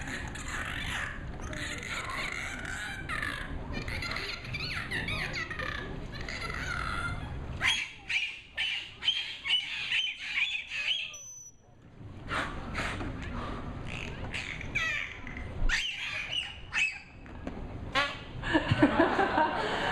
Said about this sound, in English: They're also very vocal animals and can make a wide variety of sounds. And we're lucky enough to hear a lot of those vocalizations right here.